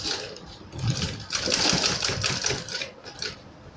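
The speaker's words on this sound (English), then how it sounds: "as I'm sewing, I'm not going to close up the opening, so you just make sure you just sew around the edges only" A sewing machine stitches around the edges of ornamental trimming for soft furnishings, running in close, rapid mechanical bursts with short pauses between runs.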